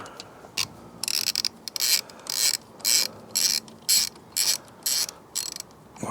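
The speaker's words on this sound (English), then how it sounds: "it's just a matter of putting these 2 bolts back" A ratchet drives a bolt on the rear brake caliper of a Grinnall Scorpion kit car with a BMW K-series rear end, giving repeated close, crisp clicking bursts in an even rhythm with short pauses between strokes.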